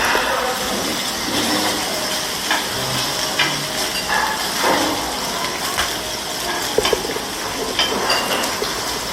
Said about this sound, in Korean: 왜냐면 고기 이글이가는 소리를 한번 들어보세요.